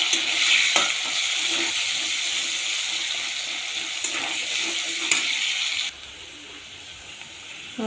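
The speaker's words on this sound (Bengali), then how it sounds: "তারপরে দেব পেঁয়াজ। পেঁয়াজটা হালকা ভাজবো।" Sliced onion sizzles lightly in a hot pan, a steady bright crackle with a few stirring scrapes, quietening abruptly near the end as the heat drops or the pan is moved.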